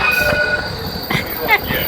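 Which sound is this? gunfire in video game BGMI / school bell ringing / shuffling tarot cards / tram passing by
tram passing by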